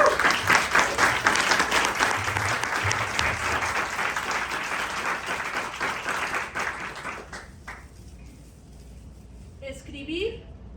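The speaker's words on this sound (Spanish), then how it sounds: "para quien les pido un fuerte aplauso" A conference audience gives a writing talk's guest speaker, an editor, a strong round of applause: dense, sustained clapping that fades out after about seven seconds, leaving a quiet room with a faint voice near the end.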